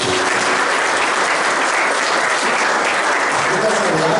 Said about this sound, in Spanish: Habla un aplauso, Señor Jesucristo.